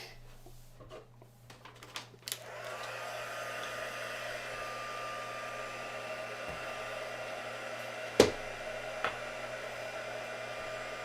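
A heat tool blows steadily while drying a card-making project, a continuous whirring hum that starts after a couple of seconds of quiet handling and runs on alone, broken by a sharp tap or two.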